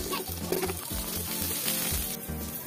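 Garlic and onion sauté in a hot pan, a close, steady sizzle with soft crackles and light stirring.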